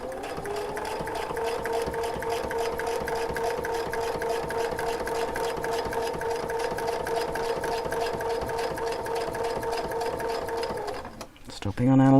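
A sewing machine stitches steadily with a fast, even mechanical hum and rapid needle ticking, running continuously for about eleven seconds before stopping with a few clunks and handling noises at the end.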